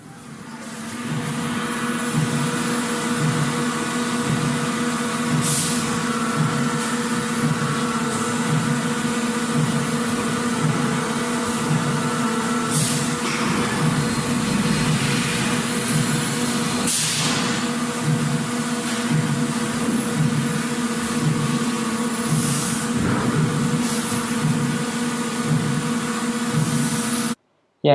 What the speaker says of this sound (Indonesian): yang ini adalah suara dari mesin-mesin produksi ya di sebuah pabrik